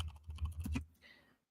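A flurry of quick keystrokes on a computer keyboard, faint and close, clattering for under a second before trailing off into quiet.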